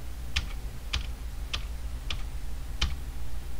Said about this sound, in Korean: Alt 키 꾹 누른 채로 오른쪽 방향키 5번을 눌렀다 떼 볼게요.